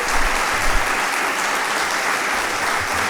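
Audience applause for the foundation team at the opening ceremony of the Human Rights Route in Oviedo: dense, steady clapping from a large crowd filling the room at full volume.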